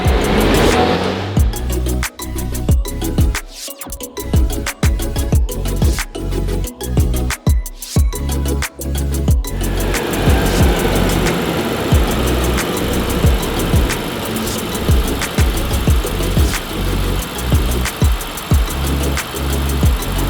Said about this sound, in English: we have to get it up to like 100 miles an hour and just let it coast down